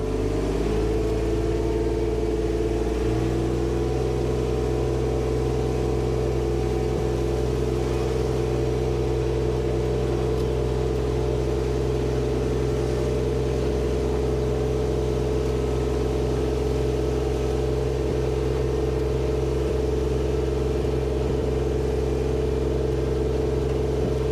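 A Kubota RTV900 utility vehicle with a D902 diesel engine drives along, giving a steady, loud, droning engine hum with a slight shift in pitch early on and no voices.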